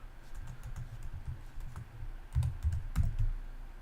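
Computer keyboard typing while entering a line of C++ code, a steady run of quick soft keystrokes with small clustered bursts, close and fairly quiet with no talking.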